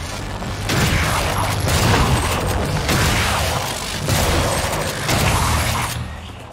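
Shotgun fire in the sci-fi video game Prey, with loud booming blasts and mechanical clatter in sustained bursts over about six seconds, filling the clip with dense noise.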